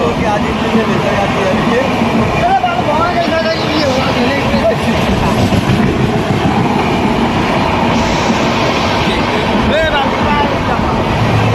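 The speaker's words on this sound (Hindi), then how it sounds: "अभी राजधानी एक्सप्रेस गया है" Rajdhani Express train rolling past at close range, a loud continuous rumble of wheels and carriages with occasional squeals and clatter, filling the whole stretch.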